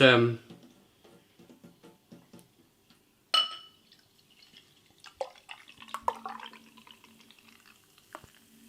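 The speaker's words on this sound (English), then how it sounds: "Just going to pour some into the glass here" Chadlington Oxford Pale Ale from Chadlington Brewery being poured from the bottle into a glass, a close liquid glug and splash followed by soft drips and fizzing, with someone talking over it.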